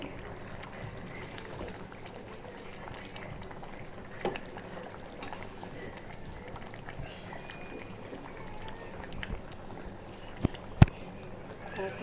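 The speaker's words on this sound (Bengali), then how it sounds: "আমি কই মাছ রান্না করতেছি। কই মাছগুলোকে ভেজে মশলা বেটে তারপর রান্না করছি।" A curry of climbing perch (koi fish) simmers in a small pot, producing a quiet, steady bubbling hiss with a few faint clinks and one sharper tap near the end.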